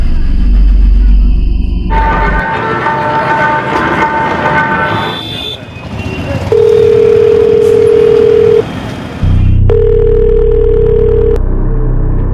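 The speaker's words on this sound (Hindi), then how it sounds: "सोनू का मोबाइल स्विच ऑफ नहीं है सर, रिंग तो जा रही है।" A mobile phone call rings out unanswered in a Maharashtra crime drama, two long steady ringback tones sounding loudly after a stretch of busy background noise.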